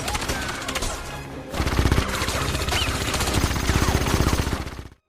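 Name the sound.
gunfire shootout in a James Bond film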